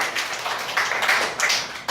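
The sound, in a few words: classroom clapping for a student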